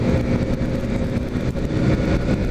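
A well-kept 1997 Honda CG motorcycle rides alongside on the road, its engine a continuous, fairly loud drone mixed with road and wind rumble. No one speaks.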